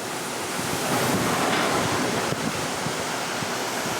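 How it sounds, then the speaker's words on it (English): Hurricane Ivan waves crash over a house deck, with a roaring wash of surf and heavy wind buffeting the microphone, loud and continuous with surging peaks. "the waves are crashing over the deck"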